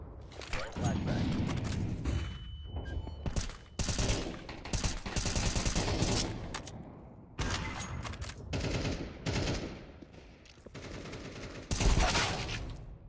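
Bursts of AK rifle fire in Counter-Strike 2, several loud clustered volleys separated by short pauses, with a voice talking over parts of the action.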